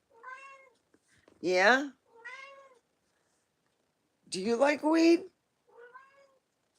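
A cat meows several times, drawn-out plaintive calls with gaps of silence between them, close and clear, while a person speaks briefly among the meows.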